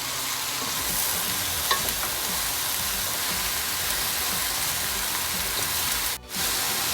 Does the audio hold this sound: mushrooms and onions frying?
yes